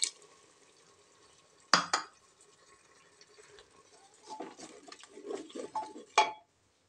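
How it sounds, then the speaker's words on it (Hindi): Dry spices go into a pan on an Indian home stove, bringing a few sharp metallic clinks of utensil on pan followed by soft scraping and stirring, fairly quiet with no talk. "तो गाइस अब मैं इसमें ऐड कर देती हूँ अपने सारे सूखे मसाले।"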